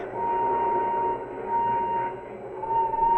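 A train rolls steadily over a bridge as a radio drama sound effect, a close, continuous rumbling clatter with a sustained whistle-like tone running through it, heard alone without voices.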